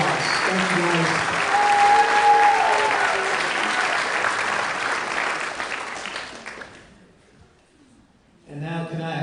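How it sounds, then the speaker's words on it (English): An audience at an athletes' awards ceremony applauds in a steady, full wash of clapping with some cheering, lasting several seconds before fading to near silence; a voice begins speaking at the very end. "Let's give these amazing athletes another round of applause."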